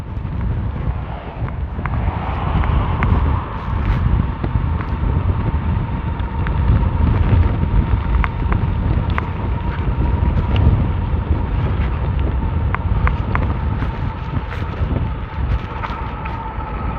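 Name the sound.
wind gusts blowing into microphone while riding an e-bike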